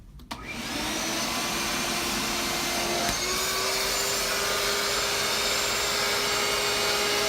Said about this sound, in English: Now, I ended up buying this little wet vac.